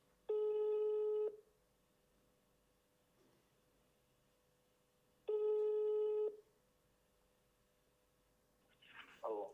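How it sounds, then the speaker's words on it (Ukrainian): A telephone line tone plays while calling a supplier: two long, loud steady beeps about four seconds apart with quiet between them, and a brief rustle near the end. "Так, телефонуємо."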